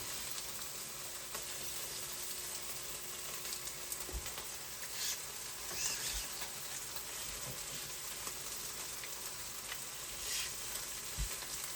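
Eggs sizzle steadily in a hot pan, a continuous bright frying hiss with occasional soft pops and clicks, no talking over it.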